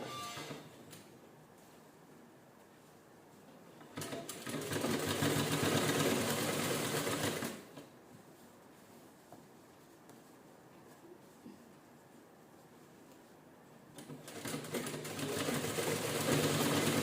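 A sewing machine stitches a folded canvas strip along a princess blouse's front neckline in two steady motor runs of a few seconds each, separated by quiet pauses.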